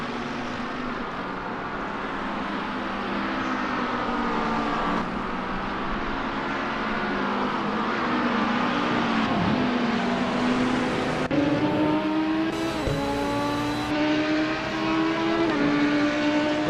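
Porsche race cars at the Red Bull Ring in Gran Turismo, several engines droning and revving together at close range, their pitch climbing through the gears and shifting steadily across the whole stretch.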